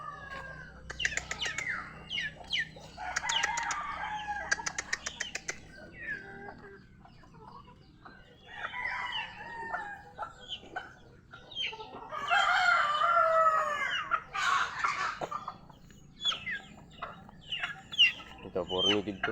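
Native chickens cluck and crow on a backyard farm, bursts of clucking and a rooster's crow sounding close, with pauses between calls and some talk now and then.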